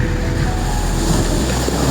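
Sea waves wash onto the shore at night on the beach at Dipaculao, a steady broad rushing roar mixed with wind, with no voices.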